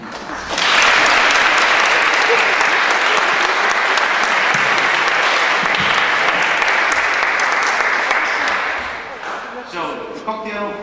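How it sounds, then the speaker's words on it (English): Loud, sustained applause from an audience at a closing-remarks reception, a dense wash of clapping that starts abruptly and holds steady for about eight seconds before tapering off. "So big applause for Henk."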